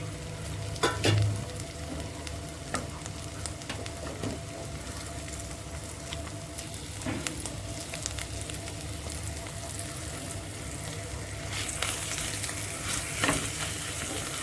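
Onion paste hits hot oil already seasoned with asafoetida and cumin, giving a steady, close sizzle and frying hiss with occasional stirring scrapes and a brief surge of louder spitting toward the end.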